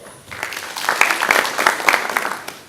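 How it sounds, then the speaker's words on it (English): An audience at the KUCCPS stakeholders forum gives a burst of applause that swells after a quiet start and holds steady, with many hands clapping at once. "give her a clap"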